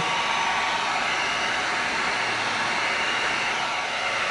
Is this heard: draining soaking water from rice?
no